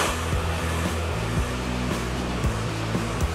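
A handheld hair dryer drying and styling a man's short hair: a loud, steady whooshing blow with a low motor hum that runs unbroken from start to finish.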